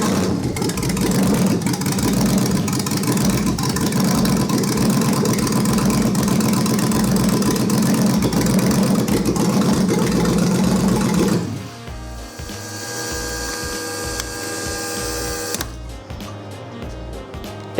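An engine mounted on a stand, fitted with a Terminator X ignition system, cranks and runs with a loud, steady churning roar for about eleven seconds, then drops to a lower mechanical hum and whir before cutting off, with no talking.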